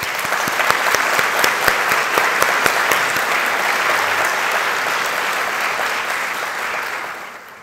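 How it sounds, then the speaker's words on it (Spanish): Audience applause at a panel discussion, loud dense clapping from a full room that starts with sharp distinct claps, merges into a sustained roar, then tapers off. "un aplauso."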